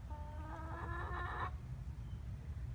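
Two newly arrived hens of the same breed, layers of blue-green eggs, give a short burst of clucking and calls lasting about a second and a half, close by, over a low steady background rumble.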